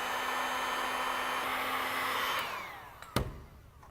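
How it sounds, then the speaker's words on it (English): A heat gun blows steadily while softening a fuel pump pickup tube during a Holley Sniper EFI fuel tank install, a constant whooshing fan roar that winds down after a few seconds, followed by a sharp knock. "Using a heat gun will help you soften up the material so you can slide the fuel pump on easier"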